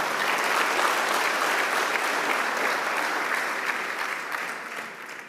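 Conference audience at a vitamins and minerals annual meeting breaks into loud, dense applause, a sustained wash of many hands clapping that tapers slightly near the end.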